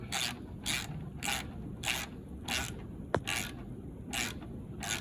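Ratchet wrench clicking in regular bursts, about eight even strokes, while working on the steering damper of a Smart ForTwo 450 cabriolet; close and steady, with one sharp metallic ping partway through.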